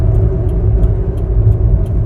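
A Suzuki Carry 4x4 kei truck drives along with a steady, loud low engine rumble and road noise, close and continuous throughout with no voices.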